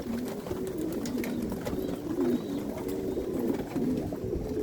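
Pigeons at a loft whose landing board has been removed coo in soft, repeated low rolls close by, with a rustle of birds settling at their nests and no talk.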